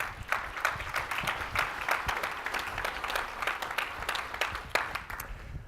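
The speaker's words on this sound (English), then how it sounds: "Give yourselves a big round of applause." An audience at an executive summit applauds, with individual claps standing out sharply inside a moderately quiet, sustained wash of clapping.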